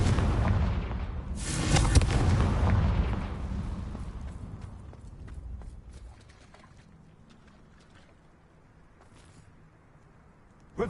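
The Confringo fire spell explodes in Hogwarts Legacy as a loud whooshing blast with a heavy rumble. The rumble gradually decays into near silence, and a small sharp sound comes at the very end.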